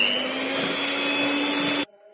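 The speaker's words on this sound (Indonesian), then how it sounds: "Di mixer dengan kecepatan rendah saja asal tercampur." Electric hand mixer whirring steadily at low speed through coffee, milk and palm sugar sponge cake batter, a constant close-up hum with a high whine that cuts off abruptly at the end.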